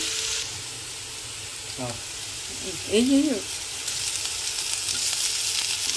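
Curry leaves and onion frying in a pan make a continuous hiss that swells in the second half, close and fairly loud, while a voice talks briefly over it in the middle.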